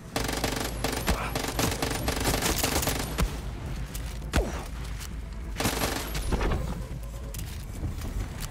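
Rapid gunfire rattles through a Far Cry 6 fight, dense machine-gun bursts and separate sharp shots stacked loud and close, with brief lulls between volleys.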